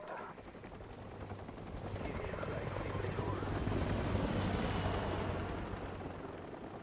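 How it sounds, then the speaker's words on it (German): Enemy helicopter in the shooter game Call of Duty Modern Warfare Remastered, a steady rotor thump and roar that swells louder through the middle and eases slightly at the end, with game noise around it. "Feindlicher Helikopter."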